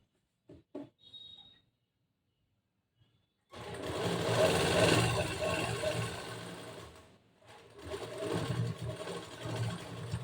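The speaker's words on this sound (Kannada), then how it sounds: "ಜೋಡಿಸ್ಕೊಂಡು ಇವಾಗ ಈ ಸೈಡ್ ಫಿಟ್ಟಿಂಗ್ ಸ್ಟಿಚಿಂಗ್ ಮಾಡಬೇಕು." A sewing machine stitches the side fitting of a blouse in a steady, close whirring run of several seconds with a short pause. A few light handling clicks come before it starts.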